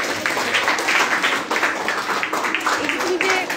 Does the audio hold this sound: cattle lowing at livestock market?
no